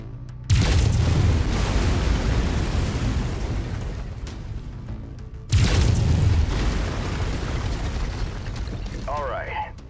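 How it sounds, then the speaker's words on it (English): Mech firing lasers in MechWarrior 5: Mercenaries, two heavy booming weapon bursts, each striking abruptly and rumbling on for several seconds, with a brief warbling electronic tone near the end. "Lasers are mapped to Weapon Group 2. Fire them when ready."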